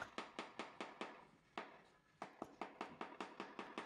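Sharp, light hammer taps repeat at a quick, even pace on kitchen tiles being set level, with a brief pause midway before the tapping resumes.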